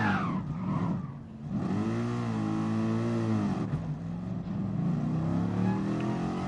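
A race car engine revs and shifts through gears in a Nürburgring 24-hour racing game, a steady close drone with rising and falling pitch sweeps as the car accelerates.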